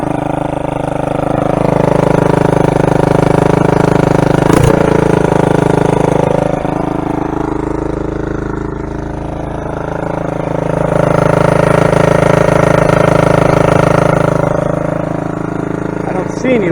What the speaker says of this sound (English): The choke's on, so it's gonna be a little bit high on the idle.